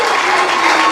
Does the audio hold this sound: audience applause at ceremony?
yes